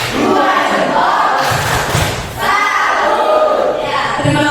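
A seated group of teachers and parents in a workshop performs a rhythmic clapping chant, loud and close, in bursts of claps with voices calling along.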